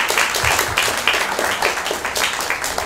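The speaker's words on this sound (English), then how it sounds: "please a round of applause for her" An audience at a Krishna Janmashtami temple event claps in a moderate, fairly sparse round of applause, individual hand claps audible over a soft background for a few seconds.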